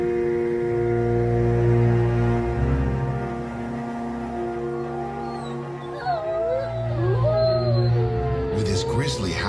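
A long, wavering wolf howl rises and falls over a low rumbling background, followed by several shorter yelping howls.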